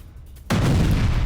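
A loud burst of military gunfire or blast erupts suddenly halfway through during an Israeli attack on Hezbollah buildings in Lebanon, sustained and dense after a quieter opening.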